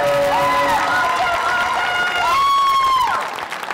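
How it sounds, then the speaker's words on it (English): An audience at a 2024 junior talent show applauds a young contestant, a steady roar of clapping and crowd noise with high tonal whoops or music over it that fades near the end. "Let's give Morgan another round of applause."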